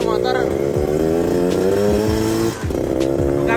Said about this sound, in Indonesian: saya pengen test ride ini motor ke depan kali ya